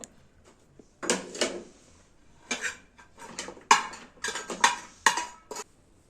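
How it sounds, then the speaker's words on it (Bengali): Bottle gourd curry is stirred in a pan, giving a series of irregular scraping clinks and clatters of a spoon against metal, close and fairly loud, separated by short quiet gaps. "আমরা লাউগুলো এখন নাড়াচাড়া করে নিচ্ছি"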